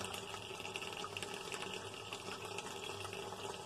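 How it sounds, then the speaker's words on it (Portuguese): Water runs steadily into the drum of a Brastemp washing machine during a repair check, a soft continuous gushing and splashing, faint and close, with no voices. "Tá indo água lá dentro dela."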